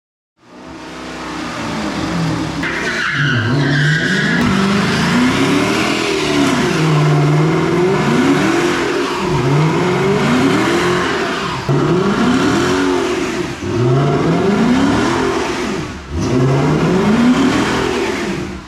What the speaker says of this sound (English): We just did a burnout right in the shop